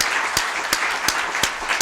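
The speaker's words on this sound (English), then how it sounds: "if we could please give a round of applause to the clerk's office" Round of applause at a county board meeting, a brief burst of many hands clapping steadily in a room.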